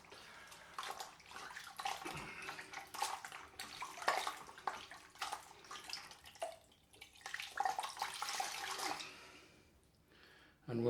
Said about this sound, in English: let's rinse off my hand towel.